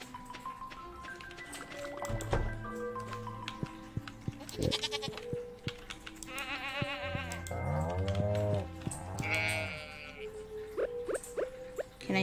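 Sheep in Stardew Valley give several short bleats spread through the stretch, mixed with other farm animal calls and game effects, fairly close and clear.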